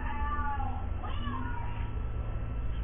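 A cat meows a few times over a loud, low rumbling background, the drawn-out cries fairly faint and mixed into muffled room noise.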